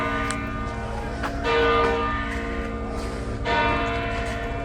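Church bells of the Co-Cathedral of St. Peter and St. Paul in Bosnia and Herzegovina ring out at noon in repeated strikes, their tones lingering and overlapping, with a low background murmur.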